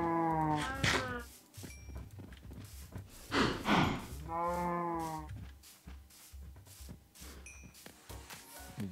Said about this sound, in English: Those are some happy cows